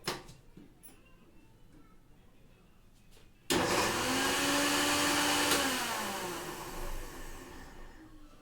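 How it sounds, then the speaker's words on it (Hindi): After a few seconds of quiet, a mixer grinder grinding onions without water starts abruptly with a loud motorized whir and grinds steadily, slowing and fading slightly near the end. "अब हम इसे मिक्सी में डालकर पीस लेते"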